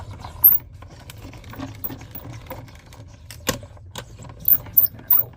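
A hand-cranked paper-crafting die-cutting machine clicks and ratchets as a plate with a dryer sheet runs through, giving a close series of uneven mechanical clicks with a few sharper snaps.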